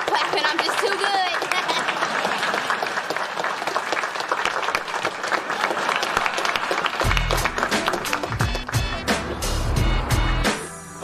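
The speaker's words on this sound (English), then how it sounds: "Keep clapping." Studio audience of a sitcom applauding, dense sustained clapping throughout with a voice speaking over it.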